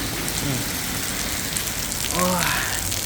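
Heavy rain pours steadily on surfaces during a storm in Kanchanaburi, Thailand, a dense continuous hiss with a brief unclear tonal sound near the end.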